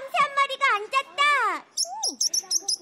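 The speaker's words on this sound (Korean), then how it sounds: "참새 한 마리가 날아와서 머리 위에 앉았다." A high voice glides through sweeping sung or spoken tones, then a sparrow breaks in with a short run of quick, sharp chirps near the end.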